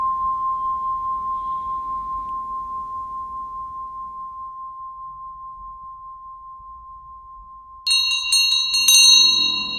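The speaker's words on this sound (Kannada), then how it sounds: "ಪಂಚಲೋಹದ ಪ್ರಣವನಾದ ಘಂಟೆಗಳು ಹೃದಯಾಂತರಾಳದಲ್ಲಿ ಅನುರಣಿಸುವ ಚಿರಂತನ ಮಂಗಳ ನಾದವೇ" A five-metal pranava nada bell rings with a single sustained, pure tone that slowly pulses and fades over several seconds, then a brighter cluster of chiming strikes enters near the end.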